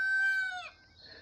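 The tail of a rooster's crow on a small farm trails off and falls away, fairly close and clear, leaving quiet background behind.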